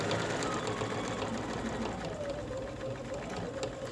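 A sewing machine runs continuously while stitching a slightly curved seam across a cotton face mask, a steady close mechanical whir and rattle without pause.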